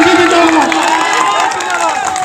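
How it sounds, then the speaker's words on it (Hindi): A crowd at a Bihar election rally in Kishanganj shouts and cheers loudly, with excited voices and yells rising together over a short burst. "अब हमारे बीच बिहार के ढाका से राणा रंजीत जी के लिए जोरदार ताली"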